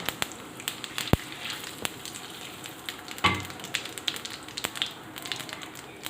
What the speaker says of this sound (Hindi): ऑयल तकरीबन गर्म हो चुका है। इसमें अब मैं डाल रही हूँ सफ़ेद ज़ीरा